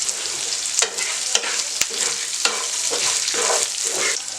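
Dried chillies and curry leaves fry in a pan of hot oil with a bright, constant sizzle. Intermittent scrapes and stirring strokes rise above the crackle, close and fairly loud, with no talking.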